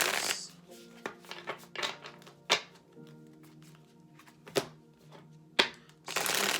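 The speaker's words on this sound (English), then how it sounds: "I'll give it a few more shuffles" Tarot cards shuffled by hand in a series of crisp riffles and slaps with short pauses between bursts, close and fairly quiet, ending with a longer flurry.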